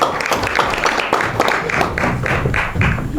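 An audience at a marathon launch event claps in a fast, rhythmic burst, fairly loud and close, with individual hand claps distinct in a steady patter.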